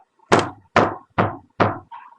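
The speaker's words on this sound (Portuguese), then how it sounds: "ouviu as surdas batidas da aldraba" Door knocker striking a door, four evenly spaced heavy, dull knocks with a softer fifth tap at the end, close and clear with no voices.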